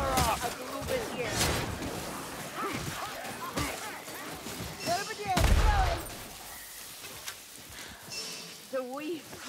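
Bursts of gunfire crackle through a Warhammer Vermintide battle, scattered shots among shouting players and combat clatter, with a louder blast midway, all mixed under excited voices.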